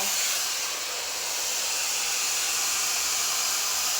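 A Shark Flexstyle hair dryer runs on its highest setting with a steady, loud, breathy roar of rushing air that holds unchanged close to the mic.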